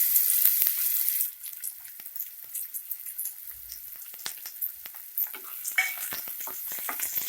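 Chopped onions sizzle and crackle steadily in two spoons of hot oil inside a heated pressure cooker, cooked for village-style chicken chops. The frying is loud at first, then settles to a continuous hiss with scattered pops and stirring scrapes, with no voices.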